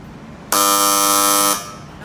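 A CT-604A counter display board lets out a loud, steady electronic buzz at its target count, a single tone lasting about a second that starts abruptly and stops cleanly, with nothing else heard.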